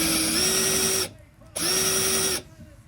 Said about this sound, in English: Go ahead and grab your drill.